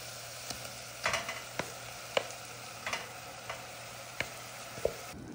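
A spoon stirs salt and cumin into ful medames in a pan, giving scattered light scrapes and clinks over a low steady sizzle and background hum, close and without talking.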